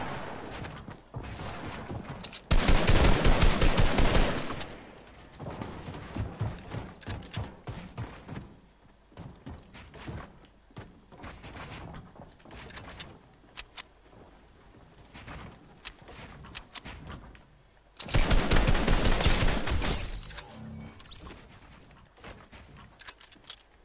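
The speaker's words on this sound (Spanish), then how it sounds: "¿No te están disparando desde detrás, cabrón?" Bursts of gunfire in a battle royale shooter game, two sustained loud volleys several seconds long separated by scattered lighter pops and clatter, coming from behind the player.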